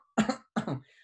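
Two sharp, close coughs in quick succession, each a brief harsh burst separated by a short pause.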